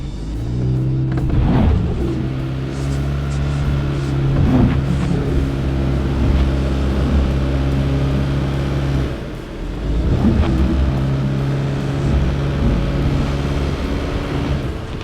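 A 2017 Fiat 500X AWD strains up a steep off-road hill, its engine droning loud and steady with several revving surges and a brief dip partway through.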